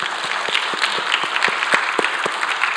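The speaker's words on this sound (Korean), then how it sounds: "우리 한번 박수 합시다" A church congregation claps during a live worship service, a short burst of dense, steady applause heard alone without talk.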